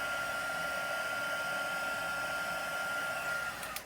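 Heat embossing gun blowing steady hot air onto the back of paper, a constant loud whooshing hiss that holds without a break before fading slightly at the end.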